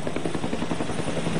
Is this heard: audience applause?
no